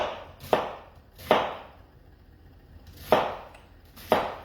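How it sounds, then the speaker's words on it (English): Onions are being chopped for a venison bolognese, four sharp knife strikes on a board in an irregular rhythm, close and alone with quiet gaps between. "at the moment I'm just finally chopping some onions"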